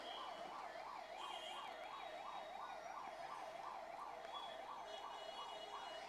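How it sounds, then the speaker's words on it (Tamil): An ambulance siren sounds through the whole stretch, a fast rising-and-falling wail that repeats steadily, fairly faint and distant over low traffic noise. "இனி இப்படிதான் அடிக்கடி இந்த ஆம்புலன்ஸ் போகும்."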